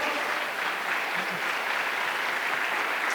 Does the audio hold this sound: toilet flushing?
no